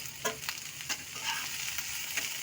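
Chopped onion, capsicum and spring onion frying in a pan with salt, a continuous sizzle broken by repeated scraping stirs of a spatula, close and moderately loud, with no voices.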